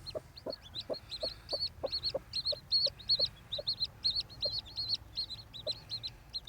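An Indian game hen clucks in a steady series of soft, low calls while her newly hatched chicks peep in high, rapid clusters nearby, all close and without talking.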